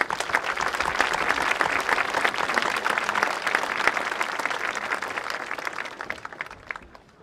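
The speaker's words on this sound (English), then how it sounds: "Another round of applause for our concert band." A large commencement audience at a 2022 graduation applauds the concert band with steady, dense clapping that holds evenly for several seconds, then thins and fades out near the end.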